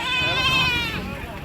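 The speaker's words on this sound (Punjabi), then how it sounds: "ਇਹ ਵੀ ਬੱਕਰਾ ਹੀ ਹੈ।" A goat at a livestock market gives one loud, wavering bleat close by, held for about a second before it tails off.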